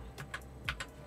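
Typing on a James Donkey S2 low-profile keyboard, a few quiet, scattered key clicks in light irregular rhythm, close and faint with no talking.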